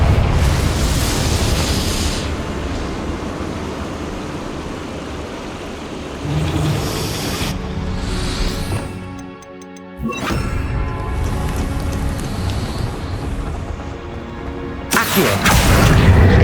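Explosions from the Confringo blasting spell in the video game Hogwarts Legacy, heard as loud, rumbling booms and crackling blasts over game sound. A brief lull falls midway before another burst closes out the clip.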